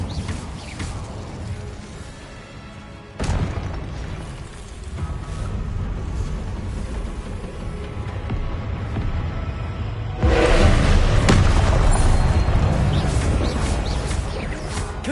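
Fire spells burst and explode in Hogwarts Legacy on PS5: loud crackling blasts and whooshes with mechanical clatter over a dense game soundscape, and a sharp louder surge near the end.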